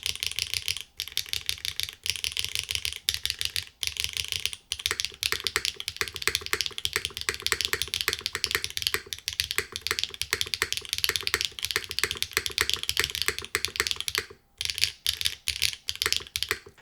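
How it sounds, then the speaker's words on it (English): Rapid, loud typing on a mechanical keyboard with M3 switches on an aluminum plate, dense clacky keystrokes with brief pauses, close up and without talk. "These are M3 switches on the aluminum plate. Holy crap, M3s are loud."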